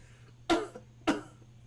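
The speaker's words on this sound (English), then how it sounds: "Just tail just coughs." Two short, dry coughs about half a second apart, fairly close, over a faint background hum.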